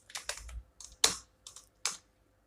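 Keys tapped on a computer keyboard while entering a customer name into billing software, about seven crisp, close clicks in quick irregular bursts, with no talking.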